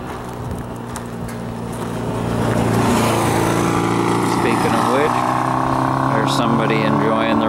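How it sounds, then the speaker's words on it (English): A tub buggy's small engine runs steadily and loudly on a mountain road, rising in intensity as it revs, with wind noise and a voice partly heard over it. "Brought the tub buggy this time. She's running really good."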